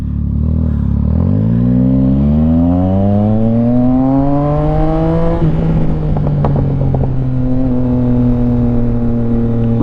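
A Yamaha XSR900 motorcycle is ridden loud and close. The engine revs climb smoothly through the gears, drop at a shift, then settle into a steady cruising drone with wind buffeting.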